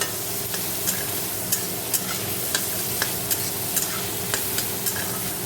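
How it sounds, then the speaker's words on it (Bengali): Snake gourd fries in hot oil with mustard seeds and dried chillies, a constant sizzle under a regular series of sharp spatula taps and scrapes against the pan, roughly every half second, with no voices. "কড়াইতে তেল দিয়ে সর্ষে শুকনো লঙ্কা ফোড়ন দিয়ে চিচিঙ্গা ভাজা করছি"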